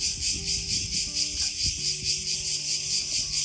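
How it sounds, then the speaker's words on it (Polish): Cicadas buzzing in a pine park in Ermioni, Greece: a steady, loud, pulsing high drone that runs the whole time. Faint low background sounds sit beneath it and no one speaks. "Słyszycie te cykady?"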